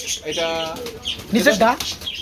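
Baghdadi pigeons coo close by in two short, throaty bursts with a brief pause between them.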